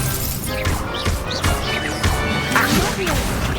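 Levioso spell cast in Hogwarts Legacy, a dense burst of magical whooshes and crashing impacts with swept tones, loud and continuous over roughly three seconds, with a voice calling out over it.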